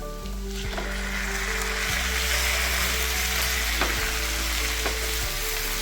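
Three medium-sized tomatoes sautéing in a pan for tomato chutney, a steady moderate sizzle with occasional stirring clicks and scrapes, no voices.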